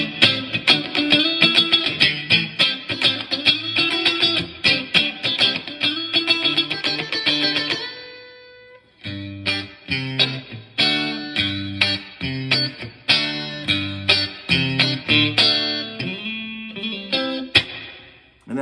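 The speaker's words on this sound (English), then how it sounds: "And that nice little drippy reverb." An electric guitar plays through a Bugera tube amp with a wet, drippy spring reverb: a strummed, distorted passage, a short break, then punchy picked chords and notes with ringing tails, no voices.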